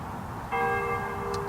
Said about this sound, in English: All right, here go the bells.